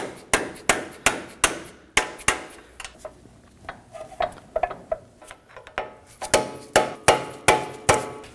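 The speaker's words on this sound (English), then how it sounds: "Using a rubber mallet and a small chisel, you can go ahead and tap onto the lower ball joint to get it into the hole." A rubber mallet strikes a small chisel against the lower ball joint of a 2017-2024 Nissan Armada, making sharp, evenly spaced taps that soften briefly in the middle before returning to a steady beat.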